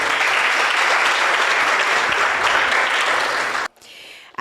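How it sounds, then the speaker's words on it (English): Big round of applause from a crowd at a school competition finals event, loud dense clapping that cuts off abruptly near the end. "I want you all to give yourselves a big round of applause."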